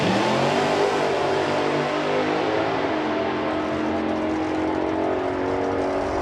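A Tri Chevy drag car, the Agamemnon, roars off down a drag strip, its engine note loud and steady as it accelerates hard and pulls away over several seconds with no talk.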